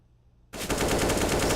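Automatic gunfire sprays in an online esports shooter match after a brief quiet moment, a dense, loud, rapid stream of shots that fills the rest of the moment.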